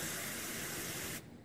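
A sprayer dispenses termite treatment solution mixed from Termidor or Taurus concentrate, making a steady close hissing spray that runs continuously and then cuts off abruptly near the end.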